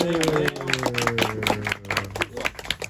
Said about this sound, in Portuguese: Aplausos aqui para o Marco Dutra e para o Celton Mello, por favor, venham